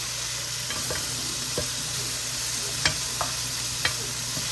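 Brussels sprouts sizzle steadily in a skillet, a constant close hiss broken by a few light scraping and stirring clicks.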